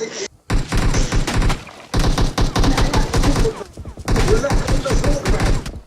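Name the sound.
gunfire in the video game PUBG Mobile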